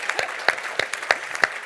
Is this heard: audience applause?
yes